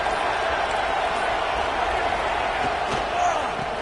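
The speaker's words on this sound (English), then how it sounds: "this crowd is fired up. Listen to this noise here." Football stadium crowd at a Miami versus FSU game roaring, a loud, dense, continuous wash of cheering with no clear pauses.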